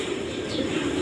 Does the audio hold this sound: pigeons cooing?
yes